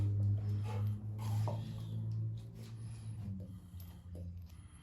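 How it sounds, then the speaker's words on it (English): Ratchet tightening bolts on a beadlock wheel, close mechanical clicking in short bursts over a low background hum, fairly quiet, with no speech. "All we have to do now is put all the bolts in and tighten everything up."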